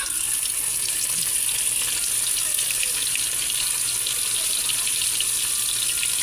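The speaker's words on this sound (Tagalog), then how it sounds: "Prito muna ako ng tuyo." Steady, loud hiss and crackle of dried fish frying in hot oil, continuous throughout with no pauses and no voices.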